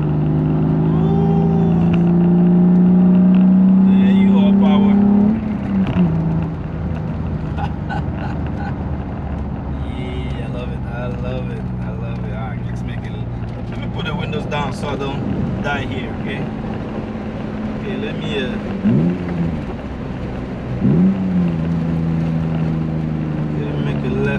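A BMW E36 M3 engine and exhaust revving high, then falling in pitch as it downshifts, heard from inside the car with rising and falling engine tones and wind noise.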